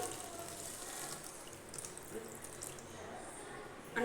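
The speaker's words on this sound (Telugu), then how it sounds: "కప్పు వాటర్ వేస్తున్నాను" A cup of water pours into a pan holding jaggery, giving a steady, splashing trickle for a few seconds. It is soft and close, with faint background noise and no speech.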